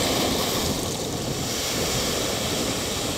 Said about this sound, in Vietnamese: Mọi người cũng có thể nghe những cái tiếng mà sóng đánh vô bờ á, rất là ầm ầm luôn